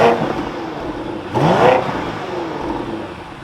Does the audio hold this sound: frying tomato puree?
no